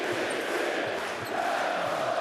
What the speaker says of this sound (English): The crowd really pumping up the volume here.